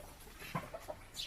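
Fighting cocks (roosters) clucking in a few short, close calls, with a higher call near the end.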